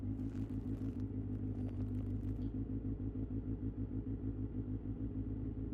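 A Kawasaki Ninja ZX6R engine idles steadily at close range, held running to let the oil circulate in Delhi traffic, with a continuous deep rumble and some clatter throughout.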